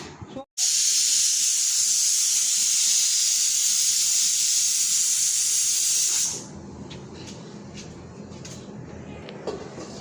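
A pressure cooker with beef inside lets out a loud, steady jet of steam hiss for about six seconds, then cuts off abruptly, leaving softer kitchen clatter and background bustle.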